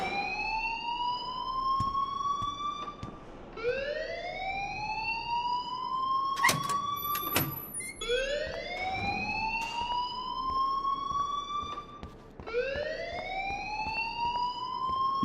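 A fire alarm in Life Is Strange wails in repeated rising sweeps, each lasting about four seconds, loud and steady throughout, with a few sharp clicks partway through.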